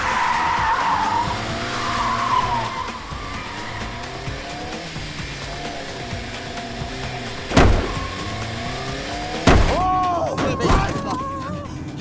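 Car tires squeal and skid during a chase as a car speeds away, with long swooping screeches over engine noise, then sharp loud impacts and further squeals near the end, mixed with shouted talk.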